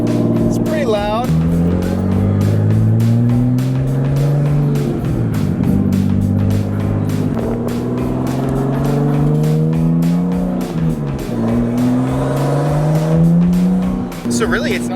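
A Nissan R33 Skyline with a resonator and no muffler drives along, its exhaust droning and rising through gear pulls with clear shifts, heard steadily from inside the car while people talk over it.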